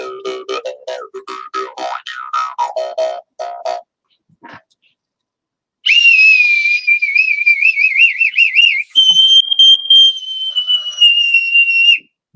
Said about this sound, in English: Boatswain's whistle.